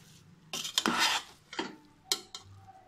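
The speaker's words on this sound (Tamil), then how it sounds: "சேர்த்து நல்லா கிண்டி விட்டுங்க." A spoon scrapes and stirs venn pongal, a rice and lentil dish with curry leaves, in a metal pot, giving several distinct scraping strokes with short pauses between them, close and clear, with no voices.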